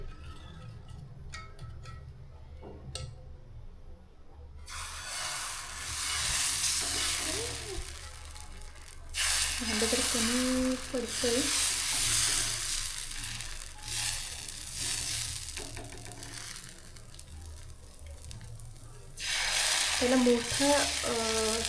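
Dosa batter sizzles on a hot tava in a home kitchen, a steady frying hiss that swells in loud bursts, with a voice speaking briefly now and then over it.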